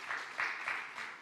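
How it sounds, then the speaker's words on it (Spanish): A conference audience gives a short burst of applause for the panelists, quick clapping from a crowd that swells and eases in small waves. "Un fuerte aplauso para ellos."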